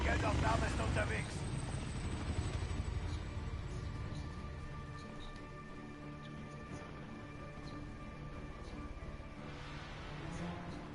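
Helicopter in a PS4 video game, a steady rotor and engine drone holding level for the whole stretch, loudest at the start, with in-game radio chatter and voices running over it.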